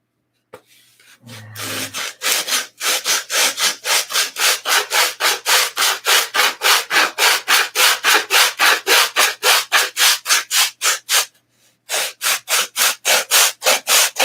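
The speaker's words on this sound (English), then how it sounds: "This is 80 grit I'm sanding with here." Wood being hand-sanded with coarse 80 grit sandpaper: loud, close, steady back-and-forth rasping strokes in a fast even rhythm, with one brief pause near the end before the strokes resume.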